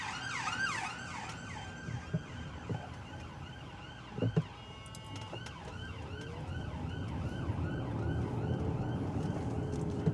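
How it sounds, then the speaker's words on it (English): An ambulance siren wails in a repeating rising and falling sweep as it passes along a road, steady and fairly loud throughout, with traffic rumble underneath and a few brief thumps partway through. "ambulance coming past."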